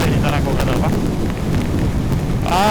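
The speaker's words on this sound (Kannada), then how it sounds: "ಸಕ್ಕತ್ತಾಗ್ಬಿಟ್ಟಿದೆ ಇಲ್ಲಿ ಮಳೆ" Heavy rain pours onto a road in South India, a dense, loud hiss of falling water with a rushing roar, while a person speaks over it.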